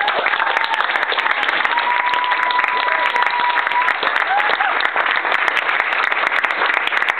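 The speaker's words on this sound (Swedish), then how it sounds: "En applåd för Li." Loud, dense applause from the crowd at a 2008 Uppsala poetry slam for contestant Li, continuous clapping with some voices and a whistle-like tone mixed in.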